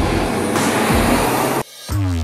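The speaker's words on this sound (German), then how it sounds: "Das ist er, der neue Seat Leon ST Cupra." A new Seat Leon ST Cupra drives on a race track near Barcelona, with a loud, close engine roar rising and changing pitch, a brief dropout as it seems to pass or shift, then the engine surging back.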